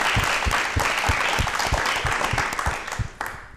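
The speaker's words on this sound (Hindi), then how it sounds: "एक बार जोरदार तालियां हमारी युवा शक्ति के लिए।" Sustained, dense audience applause at a Rajasthan television talk show, loud and continuous with many overlapping claps, tapering slightly toward the end.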